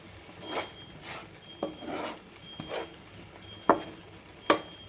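Onion spice mixture for stuffed brinjal fries in a pan, a soft ongoing sizzle broken by several scraping stirs with a spatula and a few sharp knocks against the pan, close and without speech.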